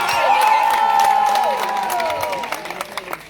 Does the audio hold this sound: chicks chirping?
no